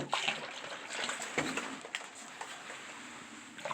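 Water from a gallon jug pours down a first-floor bathtub drain in a 1920s Detroit duplex under rehab, a steady close splashing and gurgling rush lasting a few seconds with no talking.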